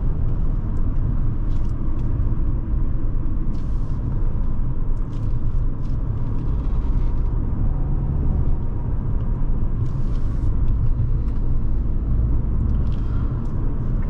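A 2012 Audi A4 2.0T Quattro cruising on the road, heard from inside as a steady, loud low rumble of engine and road noise with a faint airy hiss and no talking.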